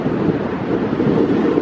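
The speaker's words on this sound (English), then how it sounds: "if that wind wasn't blowing in my face right now" Winter wind at the Cave of the Winds, behind the frozen Horseshoe Falls at Niagara, roars loud and close in a constant rumbling buffet against the microphone, with no speech.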